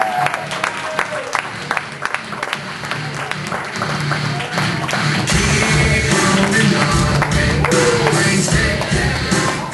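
A comedy club crowd applauds as a comedian is brought on stage, loud continuous clapping mixed with cheering and crowd noise, with tonal music and shuffling underneath that grow denser toward the end.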